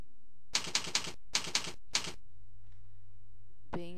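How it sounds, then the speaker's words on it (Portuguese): Quick bursts of typing on a computer keyboard, three fast clusters of sharp key clicks separated by short pauses, close and clear, followed by quiet. "eu vou digitar rapidinho"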